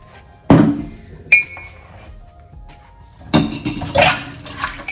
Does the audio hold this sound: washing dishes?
yes